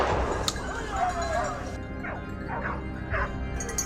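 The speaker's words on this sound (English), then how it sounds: "The moment we heard barking," Pack of hunting dogs tracking wild boar in mountain terrain, giving several yipping barks and whimpers at moderate distance over a noisy outdoor background, with a voice heard faintly.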